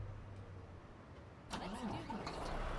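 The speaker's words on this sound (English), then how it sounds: "Let's go ahead and start up the truck here." A Volvo D11 truck engine in American Truck Simulator starts midway through, cranking and then catching into a steady, loud diesel idle after a quiet moment of low background hum.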